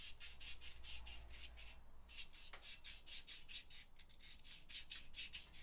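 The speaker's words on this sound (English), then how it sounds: "we're just going to wrap it around and rotate the steering shaft just to remove that little bit of, I guess, yellow coating" Sandpaper wrapped around a rotating steering shaft rubs off a yellow-gold coating on an Ultima RS steering assembly, giving a steady series of rhythmic, close rasping strokes with no talking.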